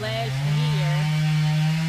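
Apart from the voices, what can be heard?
neighbors cutting up a fallen tree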